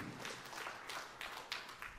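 Applause from a church congregation, a dense wash of many hands clapping at a steady, moderate level that holds through the whole stretch, heard from some distance in a large room with no voices over it.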